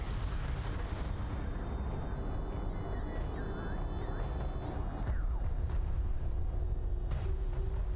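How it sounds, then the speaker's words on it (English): Airstrike explosions in the real-time strategy game Homeworld: Deserts of Kharak, dense rumbling blasts and booms over a continuous loud battle din, with sharper cracks near the end. "Enemy airstrike inbound."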